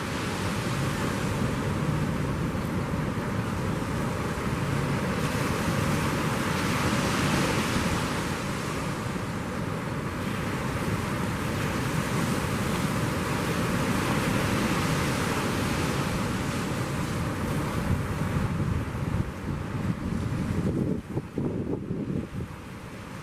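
Ocean waves break and surge at the St Lucia Estuary mouth while a boat runs behind the surf near a sandbank, a steady loud wash of surf mixed with heavy wind buffeting, continuous throughout with no voices.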